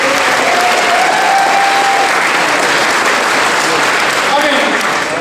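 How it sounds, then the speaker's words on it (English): Steady, dense applause from an audience at a Super League rugby season launch event fills the whole stretch, loud and even without a break. "give Henry a round of applause"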